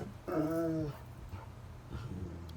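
A dog at home gives one drawn-out, whiny bark, loud and close, followed by quieter muffled noises and faint voices in the room.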